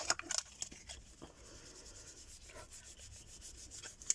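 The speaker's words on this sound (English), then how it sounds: "just wipe over that a little bit to get the excess off" Soft, close rubbing and wiping strokes pass over a homemade black soot archival ink pad to clear off excess ink, a faint, textured scraping with a few light taps.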